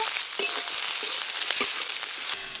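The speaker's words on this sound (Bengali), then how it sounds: "পেঁয়াজ, আদা, রসুন গরম তেলে হালকা করে একটু নেড়ে নেব।" Onion, ginger and garlic fry in hot mustard oil with a steady crackling sizzle, and a few quick stirring clicks and scrapes sound close by.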